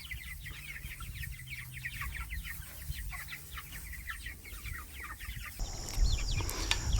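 Cornish Cross meat chickens, about five weeks old, cluck in a repeated, overlapping chatter from close by, joined by a brief louder sound near the end.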